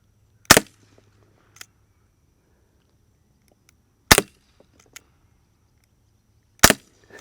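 Three sharp, loud reports from primer-powered rubber bullets fired from brass cases with no powder, each a sudden crack at several-second intervals with silence between, a few faint clicks in the gaps.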